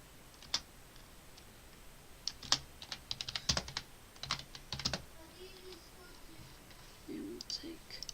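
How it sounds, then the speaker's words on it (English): Clicky typing on a computer keyboard during an F1 2022 game session: scattered, uneven bursts of sharp keystrokes up close, with a quiet voice murmuring briefly near the end. "Something's stuck in my keyboard."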